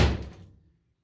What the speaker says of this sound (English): she's a door slammer.